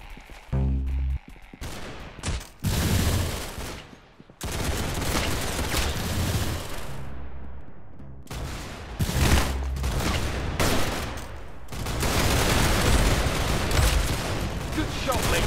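Gunfire in Roblox Arsenal rings out in loud bursts, rapid volleys broken by short silences, while players talk between the shots.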